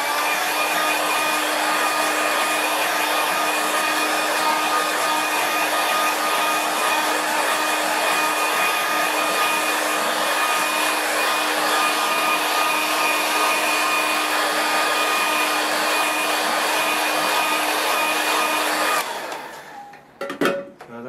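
A hair dryer runs steadily and loudly for about nineteen seconds to dry a large watercolour landscape painting, a constant whooshing drone that cuts off abruptly near the end, followed by a few faint knocks.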